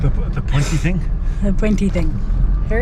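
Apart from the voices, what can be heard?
No distinct noise like a dog, phone or traffic.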